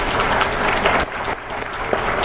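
A school band concert audience applauds a performer coming to the stage, with close, dense clapping that dips briefly midway and then continues.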